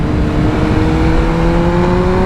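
A 2023 BMW M1000R motorcycle on the road, its engine holding a loud, steady drone whose tone climbs slowly, with no talking over it.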